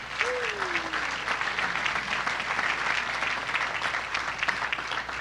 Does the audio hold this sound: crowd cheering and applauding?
yes